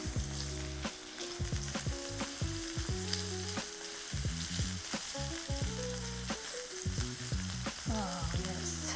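Garlic and shallots sizzle loudly in melted butter in a pan for a ribeye steak dinner, with a steady dense crackle and occasional stirring scrapes and no talking.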